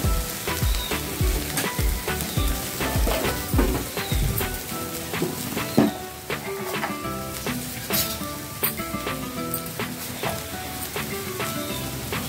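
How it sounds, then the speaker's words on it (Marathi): Okra sautéing in a pan sizzles steadily and close up for several seconds, with frequent scraping and clattering stir strokes cutting through the continuous crackle. "एक 5 मिनिटं मी भेंडी परतून घेतली"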